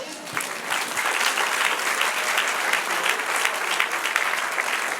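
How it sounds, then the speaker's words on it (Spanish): A church congregation applauds during a Spanish-language sermon, dense sustained clapping from many hands filling the room at an even, fairly loud level without a break. "Dale un aplauso, Señor."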